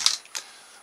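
Two short, sharp snips of scissors through a brittle plastic trellis, close by, a crisp crack on the first and a lighter click shortly after, then quiet.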